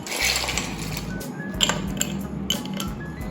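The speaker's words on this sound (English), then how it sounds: "We will fill up the glass with ice cubes." Ice cubes clatter and clink into a glass for a Coke and lemon drink, a busy run of close, bright knocks and tinkles with a few sharper clinks, over a low steady hum.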